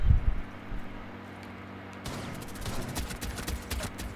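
A DMR rifle firing in a video game produces a run of sharp, rapid cracks in the latter half, preceded by a low thump and quieter lull, all close and punchy.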